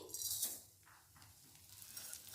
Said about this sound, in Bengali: এবারে আমি সিমুইটা ভালো করে ভেজে নেব ঘি দিয়ে।